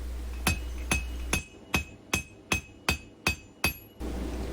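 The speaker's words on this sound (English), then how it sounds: "I came in with a smaller hammer that I could just control where it hit a little bit better" A small hammer taps a carving chisel while leaves of a rose are worked, nine sharp, evenly spaced metallic strikes at a steady rhythm, close and distinct, with no talking.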